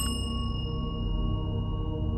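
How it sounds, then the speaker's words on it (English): A hotel reception desk bell in a video game gives a single bright metallic ding at the start, then rings on as a long, slowly fading tone with clear overtones over a low ambient hum. "ring the bell,"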